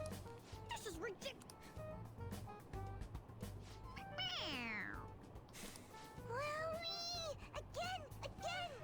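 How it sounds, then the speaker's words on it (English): A stuffed animal toy in Persona 5 Royal meows when pressed, giving a couple of distinct, clear cat meows amid game sounds and a speaking voice. "It meows when you press on its head."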